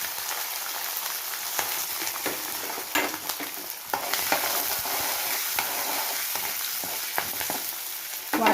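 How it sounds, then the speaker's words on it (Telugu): Ridge gourd peels frying in oil with lentils, green chilies and cumin, a steady dense sizzle with scattered crackles and pops running throughout, fairly close and with no talking. "వాటితో పాటు మనం కట్ చేసి పెట్టుకున్న బీరకాయ తొక్కలు కూడా వేసేసుకున్నాం."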